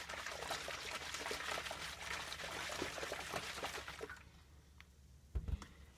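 A yeast and sugar mixture sloshes and swirls inside a lidded jar, a busy continuous liquid churning for about four seconds that then fades to quieter drips, with a soft thump near the end.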